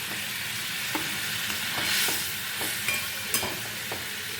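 Bengali katla fish curry bubbling in a pan, a soft steady sizzle and hiss with faint scattered pops and light stirring taps, fairly quiet and without talk.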